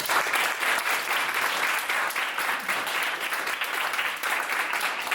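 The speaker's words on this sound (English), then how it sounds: "So I did want to first give a round of applause to Lucas as well." A crowd at a launch presentation claps in a sustained round of applause, dense and even throughout, close and loud with no speech over it.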